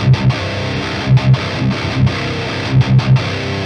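A distorted metal guitar through an EVH Stealth amp with all controls at noon plays short, chugging palm-muted chords in a tight rhythmic pattern, loud and alone.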